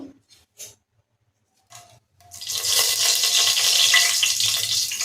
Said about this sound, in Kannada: ಈಗ ಎಣ್ಣೆ ಕಾದಿದೆ ಫ್ರೆಂಡ್ಸ್. ಈಗ ನಾನು ಪಲಾವ್ ಎಲೆ ಹಾಕ್ತಾ ಇದ್ದೀನಿ.